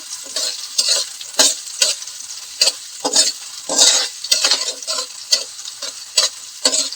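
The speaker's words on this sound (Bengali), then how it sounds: "পরিমাণ মতো তেল দিয়ে পেঁয়াজটাকে আমি ভেজে নিচ্ছি" Onions sizzle steadily in oil in a pan while a utensil stirs and scrapes in repeated bursts, close and fairly loud.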